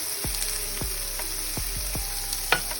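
Defrosted corn kernels warming in a pan give a steady, close sizzle, with a few soft stirring scrapes and clicks breaking through the frying hiss.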